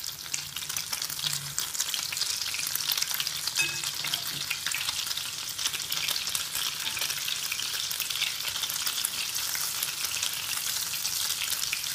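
Breaded camembert fries in a pan as it finishes browning, a steady, dense sizzle and crackle holding at an even level throughout, close and continuous with no voices.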